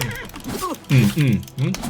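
A horse neighs in the video game Oblivion, a short whinny rising amid excited overlapping talk from players nearby.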